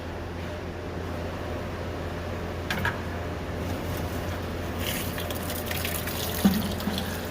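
Engine oil drains from a tractor during an oil change, a steady, continuous pouring trickle heard up close. It runs evenly the whole time under a low background hum, with a faint clank or two.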